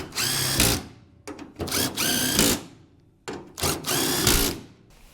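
A power tool drives bolts into the tailgate latch of a 1975 Ford F150 in three loud, close whirring bursts of about a second each, separated by short pauses, with no talking.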